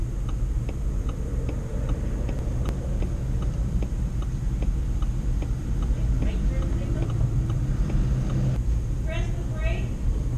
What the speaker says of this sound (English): Turn your left turn signal on.